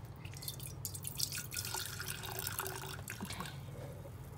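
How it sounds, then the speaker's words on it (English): Vinegar poured in a small stream onto the bottom of a container for a food coloring experiment, a continuous close trickling and dripping of liquid with no talk over it. "We're going to take the vinegar and we're going to pour a little bit on the bottom."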